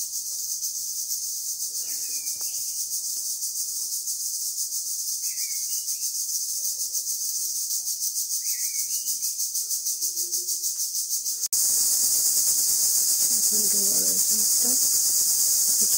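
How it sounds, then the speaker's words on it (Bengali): Crickets chirp loudly in a dense, continuous high-pitched drone throughout, with a few faint rustles and distant sounds beneath; the texture shifts slightly partway through. "প্রচন্ড ঝিরি ডাকছে"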